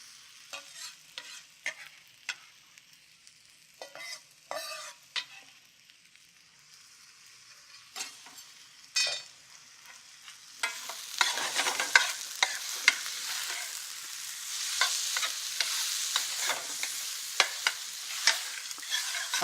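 Tomatoes added to a hot pan and stirred, scattered scraping strokes at first, then a louder, denser sizzle building and holding steady with occasional stirring clatter.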